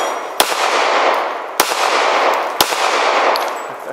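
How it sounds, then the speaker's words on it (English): A handgun is fired one-handed with the strong hand, giving three loud, sharp shots spaced about a second apart. Each crack rings out over a dense wash of noise, and no one speaks. "Let's just shoot a couple, one-handed, strong hand"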